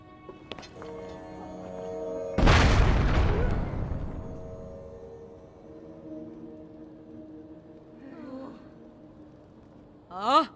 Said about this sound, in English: I'll let you fire off one cannon salute, whatever you like